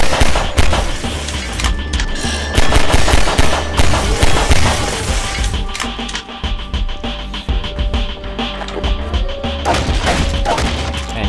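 Rapid, loud gunfire in the video game Half-Life 2, pistol shots cracking repeatedly in close succession alongside crashing impacts, with no talking.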